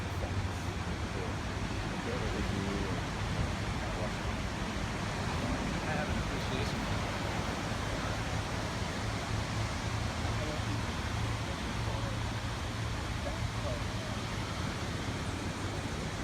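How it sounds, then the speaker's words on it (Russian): Ocean surf at a San Diego beach, a steady, dense wash of breaking waves and rushing water that continues without pause, with a low rumble underneath and some wind noise. "Шум океана. Прибой."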